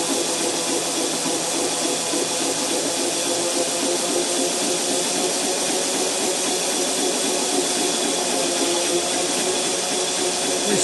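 A motor turned by hand for a Tesla-style power amplification setup with a pulley and transmission, heard as a steady, loud whirring hum with hiss that holds even throughout.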